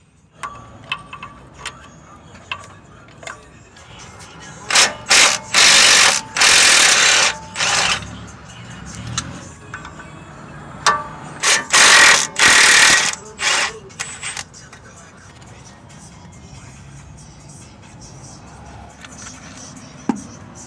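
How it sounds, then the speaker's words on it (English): A 13mm deep socket on a ratchet removes the nuts from a Jeep's lower shock absorber bolts while a 13mm wrench holds the bolt, giving two loud close bursts of rapid ratchet clicking with lighter taps and clinks around them. "I'm using a 13mm wrench to hold the bolt still and a 13mm deep socket to remove the nuts"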